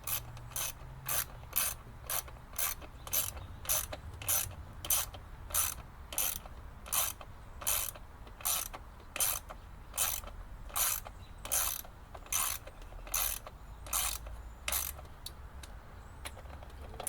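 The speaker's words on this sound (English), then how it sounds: "Start wrenching again." A ratchet wrench tightens bolts back onto a small engine during carburetor work, a steady close series of sharp rhythmic clicking strokes with brief pauses between them.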